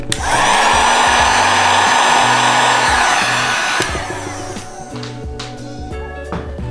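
A heat gun blows steadily and loudly as it warms vinyl wrap on a motorcycle, its whirring airflow cutting off partway through and leaving quieter handling sounds.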